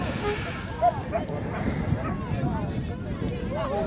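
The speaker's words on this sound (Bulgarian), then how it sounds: "Започва да духа по-силен вятър на стадиона във Враца" Gusty wind rushes across the microphone at an outdoor football stadium in Vratsa during a Botev Vratsa versus Levski match, a steady broad roar with low buffeting, while a commentator talks over it.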